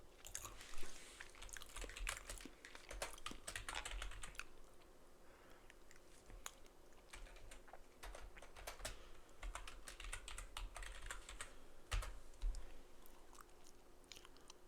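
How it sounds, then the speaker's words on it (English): Rapid clicking of typing on a computer keyboard runs through the whole stretch at a steady close level, in bursts with short pauses, with no talk. "Oh, wait, I ain't typing right."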